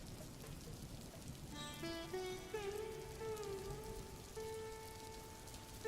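Steady rain falls outside a small house in a banana grove on a monsoon day, a constant soft hiss running under sustained musical tones.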